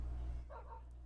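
A pet dog in Minecraft gives a single short bark, brief and moderately loud over a low steady hum, with no speech.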